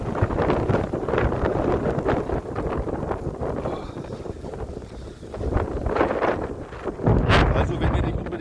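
Strong blizzard wind buffets the microphone outdoors among snow-drifted field paths, a loud roaring rush that swells and dips in gusts, with a sharp blast near the end.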